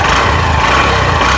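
A 2022 Honda Livo BS6 motorcycle idles steadily just after starting, a loud, close, continuous low engine rumble with no talk over it.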